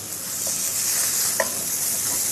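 Fish sizzling in a frying pan, a steady dense crackle of hot oil with a couple of small pops, close and continuous with no talking.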